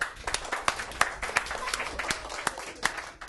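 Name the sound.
applause for Drew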